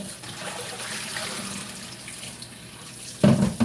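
Tap water runs steadily into a sink as something is rinsed, a broad wash of flow with a louder splashing burst near the end.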